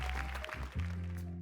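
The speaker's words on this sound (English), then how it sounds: "Big round of applause." A short burst of audience applause at an entrepreneurship panel, a brief broadband wash of clapping over a steady low hum.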